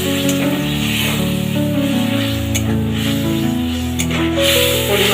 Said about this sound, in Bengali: পরিমাণ মতো আমি জল দিয়ে দিলাম।